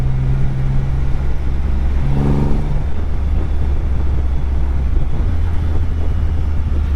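A Triumph Rocket 3 GT motorcycle being ridden hard on torque, its engine holding a loud, steady drone throughout, with a brief rising rev swell partway through before settling into a low rumble again.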